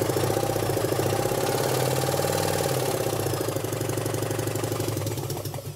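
A small Pannonia motorcycle engine with electronic ignition, cranked by a drill, turns over steadily with a rapid mechanical chugging and rattle, continuous throughout and close by.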